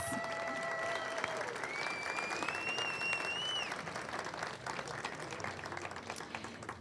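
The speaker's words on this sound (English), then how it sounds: "Let's give them another round of applause." Audience at a high school ribbon cutting ceremony applauding, a steady wash of many hands clapping from a crowd, with whistles or cheers rising briefly over it before it begins to thin out.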